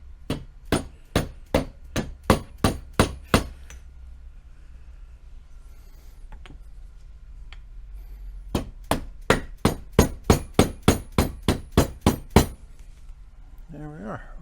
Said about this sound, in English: Use a dead blow hammer and just